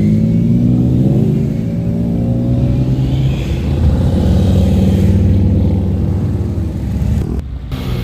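Cars drive in to a cars and coffee meet of nostalgic Japanese cars at the Honda factory: loud, close engine rumble and revving from several passing vehicles, continuous throughout, briefly dipping near the end.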